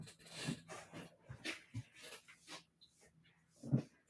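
Faint, close dog whimpers and soft yips coming in short scattered bursts, with quiet rustling and table noises around them.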